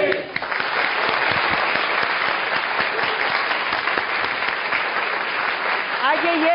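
A television comedy-show studio audience claps steadily and evenly throughout, a thick continuous wash of applause with a voice emerging faintly near the end.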